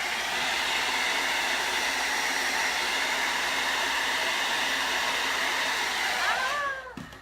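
A hair dryer blows steadily and loudly up close to dry paint on a Santa door hanger, a continuous airy roar that winds down and cuts off near the end.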